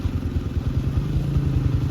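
A motorcycle being ridden on a dusty road, its engine close and loud with fast, regular thumping pulses and some rattling clatter throughout.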